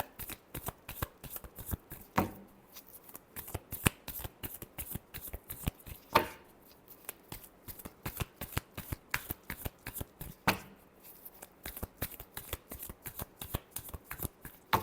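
Tarot cards are shuffled steadily by hand for about fifteen seconds, a fast run of crisp riffling flicks with a few louder slaps as the deck is squared, close and clear with no talk.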